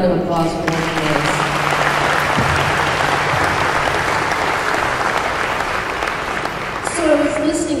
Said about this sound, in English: Let's give him another round of applause for what he is.